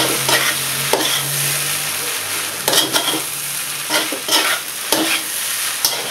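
Seafood fried rice with green onion being stirred and tossed in a hot pan, a steady loud sizzle with frequent sharp scraping strokes of the spatula, close up and without talk.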